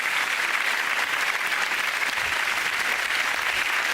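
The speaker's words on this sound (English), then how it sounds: "Give them all a round of applause, ladies and gentlemen." Studio audience applause at the close of a televised British comedy panel show, a dense, steady wash of clapping sustained loudly and evenly throughout with no talk over it.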